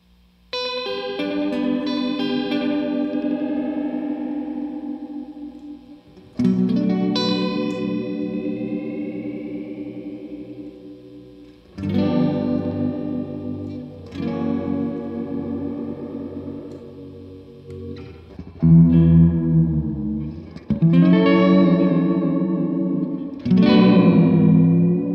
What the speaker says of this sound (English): So I'll kick up the reverb on both these amps.